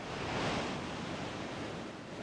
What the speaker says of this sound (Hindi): समंदर के बीचों बीच एक बड़ा तूफान आ गया।